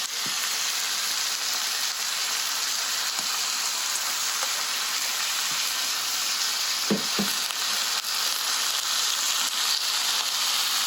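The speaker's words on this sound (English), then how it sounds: "as I put the pineapple in, You can hear it sizzling in the skillet" Pineapple sizzles in a hot skillet: a steady, close crackling hiss with a few soft knocks partway through.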